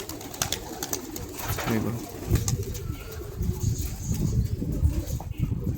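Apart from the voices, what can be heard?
pigeons arriving and perching on cage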